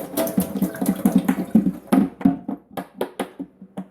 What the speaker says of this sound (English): dump out that nasty, disgusting water we just used